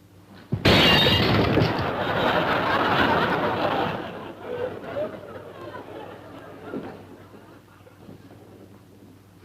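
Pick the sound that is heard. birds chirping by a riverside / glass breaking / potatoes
glass breaking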